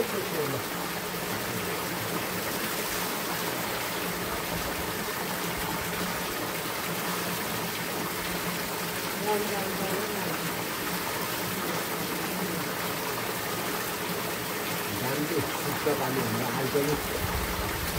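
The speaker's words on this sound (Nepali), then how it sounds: "टक्क लाएर हाम्रो यहाँ धाराको पानी खानु पऱ्यो नि त साथीहरू" Water pours steadily from a village tap in Odar, Manang, Nepal, making a constant close gush that stays even from start to finish.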